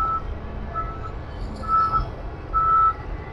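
A truck loaded with soil at a Sta. Ana Wharf flyover worksite sounds its reversing alarm, several spaced high beeps over a low engine rumble and site noise.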